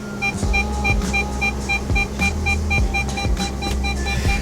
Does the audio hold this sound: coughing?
no